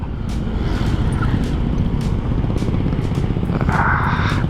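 Steady, loud rumble of car traffic at the Gunung Mas rest area in Puncak, Bogor, with continuous engine drone and passing vehicles close by, a brief hiss near the end and no talk.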